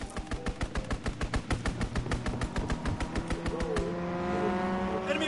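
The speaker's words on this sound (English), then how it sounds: "Recon airborne. Strafing run inbound." Rapid, evenly paced aircraft gunfire from a strafing run in a PS4 video game, a loud rattling burst of shots over a droning engine that stops after about four seconds, leaving a steady hum.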